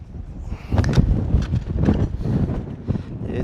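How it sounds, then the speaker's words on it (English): Gusty wind buffets the microphone in uneven rushes at an off-grid Arizona building site with rafters, with low rumbling surges and a few scraping, knocking sounds close by. "It is windy."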